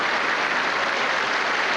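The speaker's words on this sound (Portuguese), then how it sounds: "Aplaudido no plenário do Congresso Nacional, fazendo ver da vitória, o presidente eleito está enfim no plenário." Applause fills the plenary of Brazil's National Congress as the president-elect enters, a dense, steady clapping from a large crowd with no voices.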